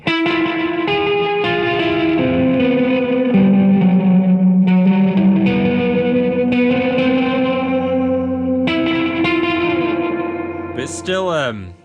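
Guitar notes and chords ring through a homemade reverb pedal, each attack trailing off in a noticeably echoey, repeating tail, played steadily and ending on a sliding bend.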